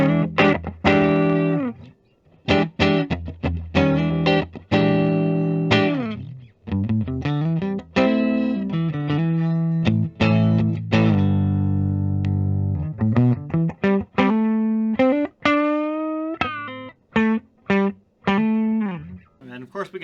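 A 2013 Gibson Les Paul Supreme electric guitar in trans black rings out on its neck pickup, with clean sustained chords and melodic single notes in phrases separated by brief pauses, close and loud with no talking.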